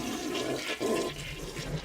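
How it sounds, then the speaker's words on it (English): A household toilet flushes, with water rushing steadily and evenly from the tank through the bowl for the whole short stretch. The toilet is opened up for a fill valve replacement. "and flushing the toilet."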